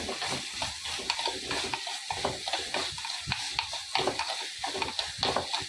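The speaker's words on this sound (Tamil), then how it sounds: "இதை போட்டு இப்போ வதச்சிட்ருக்கோம்" Small onions, garlic and green chilli sautéing in a pan after a mustard tempering, with steady close sizzling and frequent scraping stirs, no voices.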